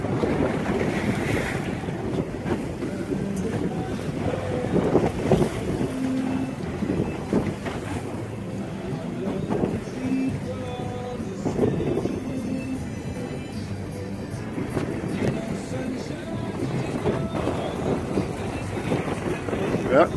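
A Parker 2520 XLD boat runs through big seas, with a steady rumbling engine, water crashing and slapping against the hull, and heavy wind buffeting the microphone throughout.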